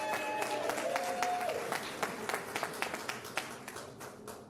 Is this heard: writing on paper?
no